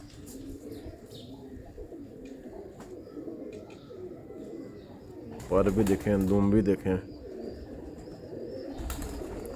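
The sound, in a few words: pigeons cooing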